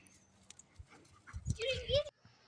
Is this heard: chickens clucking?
no